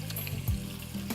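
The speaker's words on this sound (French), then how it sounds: "On va mettre la viande dans l'huile." Meat dropped into hot peanut oil for Dounguri Soko, giving a brief, soft, close sizzle and bubbling with a small splash partway through, no talking.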